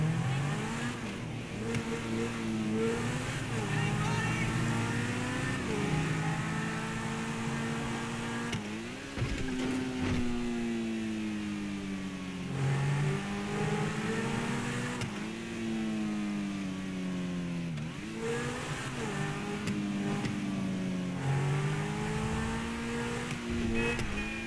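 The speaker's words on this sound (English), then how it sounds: "This car has one of the best engine sounds in the game," A supercar engine in GTA 5 Online revs and shifts continuously, with rising and falling pitch sweeps over several gear changes, loud and close throughout with no talking.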